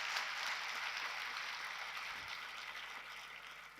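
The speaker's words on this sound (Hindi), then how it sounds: "एक बार तालियां बजाए मेरी ऑफिशियल टीम के लिए" An assembly audience of students applauding the official staff team, a continuous broad patter of many hands that stays fairly even and tapers off gradually over a few seconds.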